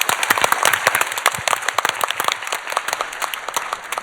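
A church audience applauds in a studio, steady crisp clapping from many hands that thins toward the end.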